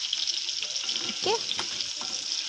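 Chopped onion, tomato and garlic fry in a pan, making a constant sizzle broken by scraping stirs and a faint short vocal sound midway.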